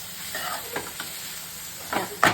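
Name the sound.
shrimp being fried and stirred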